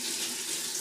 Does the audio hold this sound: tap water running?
yes